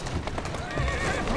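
Horse hooves clip-clop and a horse whinnies as a carriage moves through the streets of Victorian London in Assassin's Creed Syndicate, with steady wheel and street noise throughout.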